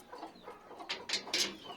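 Desi chickens in a cage on a house rooftop, soft clucks and a few sharper, brighter bird calls in quick succession, faint and close.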